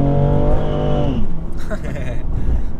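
A BMW M2 engine roars loud and close while driving, its strong tone holding and then dropping in pitch within a second, before giving way to rougher road and wind noise.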